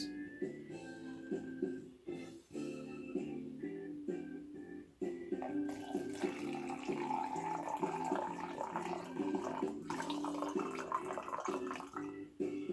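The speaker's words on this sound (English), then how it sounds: "I'm gonna actually just pour this into the bag." Liquid poured from a cup into a bag gives a steady splashing wash that starts midway and continues to the end, over a bed of tonal music.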